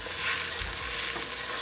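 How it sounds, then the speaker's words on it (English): Onions and meat sizzle and crackle in oily pan for a Syrian eggplant maklube, a loud, continuous close frying hiss with faint stirring scrapes and no talking. "Once the onions are cooked, we're gonna add our meat."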